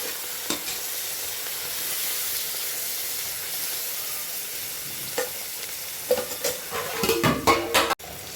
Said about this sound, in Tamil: இது எல்லாத்தையும் சேர்த்து நல்லா வதக்கி விட்டுக்கிறோம்.